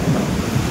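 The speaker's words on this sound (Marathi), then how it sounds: "विजा बघा तुम्ही, आवाज बघितला का खतरनाक" Thunder in a village downpour comes as a brief, loud, deep rumble that fills the moment, with rain noise around it and no speech.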